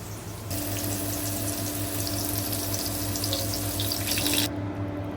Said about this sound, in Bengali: ডিম ভাজি করে নিতেছি